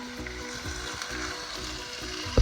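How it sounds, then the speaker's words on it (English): Meat browning in a pan as the base for an Italian ragù, a steady close sizzle and crackle of frying running continuously with no talking. "You hear that sizzling?"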